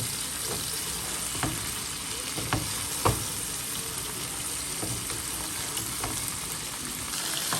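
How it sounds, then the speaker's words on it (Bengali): Okra sautéing in spices in a hot pan gives a steady, close sizzle, with a few sharp clicks and scrapes of stirring breaking through now and then. No one speaks over it. "ভিন্ডিটা এখানে একটু কষাবো মশলার ভিতরে, তাহলে আমার ভিন্ডিটা ভাজা ভাজা হয়ে যাবে।"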